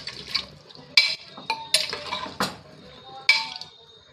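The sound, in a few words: stirring food in a pot to mix in salt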